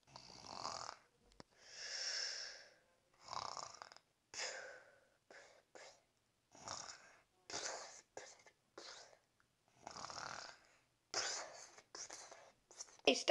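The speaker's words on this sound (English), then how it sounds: "You snored like a dinosaur." A sleeping person snores in a series of separate raspy breaths, roughly a dozen, each a second or shorter with short gaps between. The snores are close and fairly quiet.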